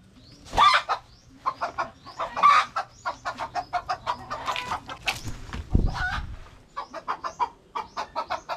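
Chickens, including a hen with chicks, cluck repeatedly in short, choppy bursts, close by, with one louder squawk partway through.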